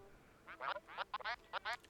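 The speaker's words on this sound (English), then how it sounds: "I don't know if you can hear that cat meowing" A cat meowing in a series of short, faint, nasal cries, several quick calls in a row, heard alone.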